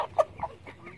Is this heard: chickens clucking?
yes